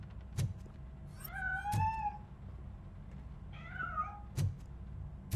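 A cat in the video game Robocop: Rogue City meows twice, two drawn-out, wavering calls spaced a couple of seconds apart, with sharp knocks in between, fairly close.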